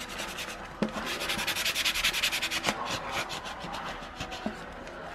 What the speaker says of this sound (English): I'm going to take my scraper, and I'm going to scrape out that bubble.